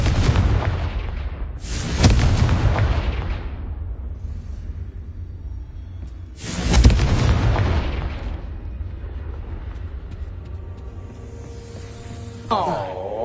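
Two loud, booming blasts of the Confringo spell in the Hogwarts video game go off several seconds apart, each followed by a rumbling decay, with a sharper burst near the end.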